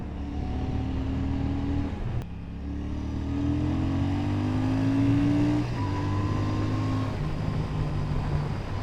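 A Royal Enfield Shotgun 650 motorcycle's parallel-twin engine runs steadily while riding, a smooth, continuous drone with gently rising pitch as it pulls, fairly loud and close, with no talk over it.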